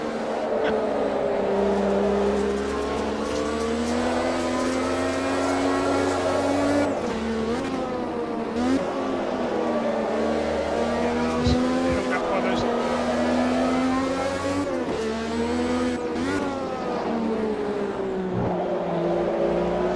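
Simulated 1985 Ferrari Formula 1 car racing at the Brazilian Grand Prix in Automobilista 2, a loud high-revving engine whine shifting up and down through gears for the whole stretch, with someone commentating over it.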